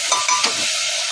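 Pav bhaji vegetables and masala being stirred inside a pressure cooker, a brief, close scrape and soft sizzle with a couple of light strokes, no talking.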